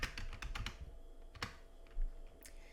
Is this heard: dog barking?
no